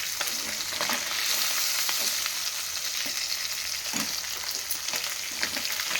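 Fish pieces fry in a pan of hot oil with a steady, fairly loud sizzle, broken by occasional scrapes and taps of a utensil.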